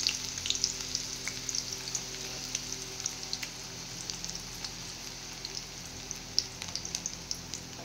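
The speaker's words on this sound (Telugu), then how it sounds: "ఇప్పుడు ఆనియన్స్ వేసుకొని" Onions frying in a pan for a paneer dish, a dense, steady sizzle with crackling pops throughout, close and continuous without speech.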